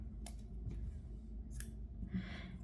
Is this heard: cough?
no